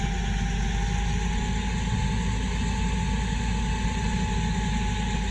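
Steady idling hum of AI car engines in the Farming Simulator video game, constant and droning at moderate level with no other sounds.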